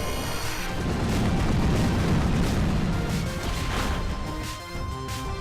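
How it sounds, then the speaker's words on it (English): A Pokémon Explosion move goes off during a VGC 2017 doubles battle, in which Torkoal uses Explosion, giving a loud, sustained crashing blast with booming rumble that rolls on for several seconds before easing slightly near the end. "And he goes for the Explosion."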